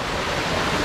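Water rushes through the channel of a hill watermill (gharat) feeding its turbine, a steady, dense roar that stays close and constant with no pauses.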